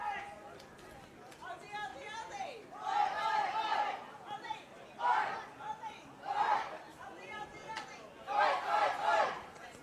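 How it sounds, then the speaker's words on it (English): A large crowd at an Australian football match, a CommBank Pararoos versus Thailand championship game, rises and falls in waves of cheering and chatter over steady background murmur, with louder swells toward the end. "Australian crowd starting to find their voice"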